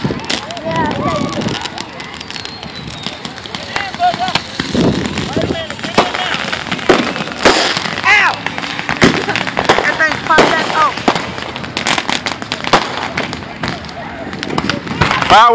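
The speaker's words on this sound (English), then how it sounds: "Fireworks still going out" Fourth of July fireworks and firecrackers popping and banging repeatedly in sharp, irregular bursts, some close and loud, others farther off, with people talking throughout.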